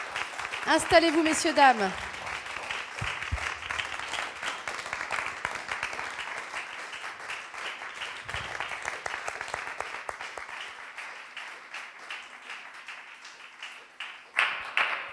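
An audience at an intimate concert applauds the singer and her musicians with dense, sustained clapping that fades slightly toward the end, while a voice speaks briefly near the start.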